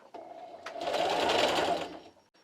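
Sewing machine backstitching through carpet tile squares for an area rug, a short stutter of starts and then a steady, loud motor whir for about a second before slowing to a stop, close up and alone.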